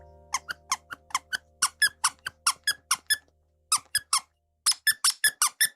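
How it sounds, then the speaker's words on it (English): A squeaky Omanju plush toy squeezed repeatedly, giving rapid bursts of sharp, close squeaks in quick rhythmic runs with a short pause midway. "That's me squeaking my Omanju of the Kawuligan."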